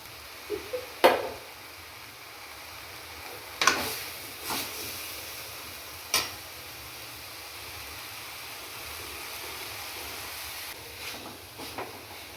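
Grated beetroot goes into a pan with ginger-garlic paste and gets stirred: a few scattered metallic clinks and scrapes of a spoon against the pan over a quiet, steady background hiss.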